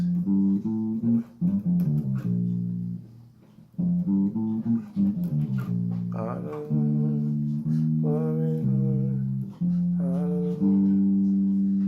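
A bass guitar plays a melodic lick built on a 6-5-3-2-1 scale run from a gospel song, with sustained low notes and sliding phrases, close and clear with no talking.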